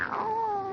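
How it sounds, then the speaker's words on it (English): A house cat named Minerva gives a single drawn-out meow close by, rising at first and then sliding slowly downward, loud and clear with no talk over it. "Oh, it's the cat."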